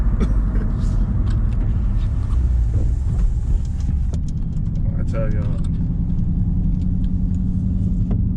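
Deep, rumbling exhaust of a 2019 Dodge Charger R/T with the mid-muffler deleted drones steadily while driving, with a person talking briefly over it.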